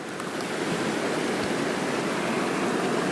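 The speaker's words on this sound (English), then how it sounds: "I can hear water rushing somewhere close by" River water rushing over exposed rocks nearby, a steady dense hiss of flowing water, continuous and fairly loud with no pauses or voices.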